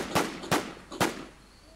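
Three sharp gunshots from a handgun-style weapon in the survival shooter The War Z, evenly spaced about half a second apart and fairly close, with no talk over them.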